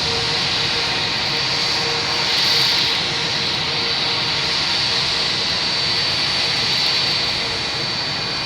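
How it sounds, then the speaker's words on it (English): A JetBlue Airbus A321 jet arriving at Boston Logan International Airport on a flight from LAX, heard as a steady, loud engine roar that swells slightly mid-pass, with no talk over it. "we have a JetBlue coming in from LAX, an A321, flight 588"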